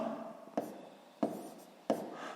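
A pen writes a math solution on paper close up, leaving three short sharp taps spaced evenly over a quiet background with faint scratching between them.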